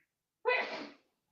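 One quick, close sneeze from a person inside a truck cab, a sharp burst that fades within half a second, alone in otherwise near silence.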